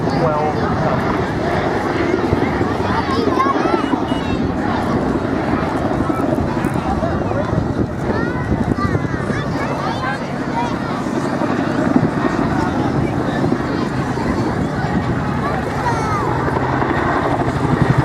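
A Chinook helicopter flying low-level orbits at the Wales National Airshow 2016 gives a loud, steady rotor drone with a throbbing beat across the whole stretch, while an announcer talks over it.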